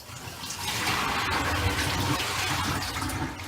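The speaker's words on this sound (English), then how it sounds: "I'm going to go ahead and dump out this pitcher full, and we're just going to keep doing that until the water runs clear." A pitcher full of water is dumped out during a reverse osmosis system installation, a loud rushing gush that swells quickly and keeps flowing steadily to the end.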